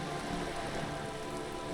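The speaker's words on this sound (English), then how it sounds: "Rain is freezing." Steady, dense rain hisses continuously in Disco Elysium, an even wash of drops with no breaks, heard alone.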